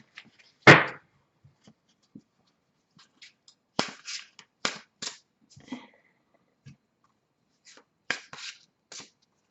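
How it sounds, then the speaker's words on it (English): An Angel Tarot card deck being handled and shuffled at close range, with one sharp slap followed by scattered crisp snaps and flicks of cards in irregular bursts, with no talking. "I need to shuffle them and make sure they're all mixed up."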